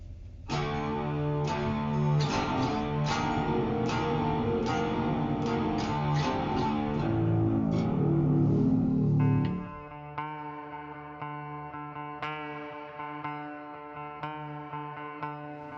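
An electronic instrument plays a melodic phrase drenched in reverb, notes ringing and washing together, then a sparser, thinner passage with lingering echoing tails.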